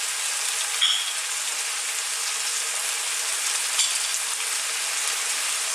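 Roughly chopped vegetables and chili frying in a pan over medium heat, a dense, bright, unbroken sizzle held at a constant level, close and without speech.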